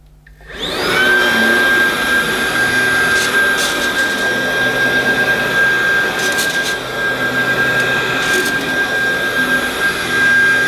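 Roidmi R10 cordless vacuum cleaner running on plush pile Saxony carpet, switching on and settling into a loud, steady whirring drone with a high tonal whine and faint rustles as it moves.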